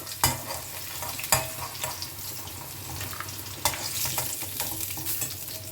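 Potatoes frying in oil in a pan, a steady crackling sizzle with a few sharp spatter bursts and occasional stirring clatter, close and fairly loud throughout.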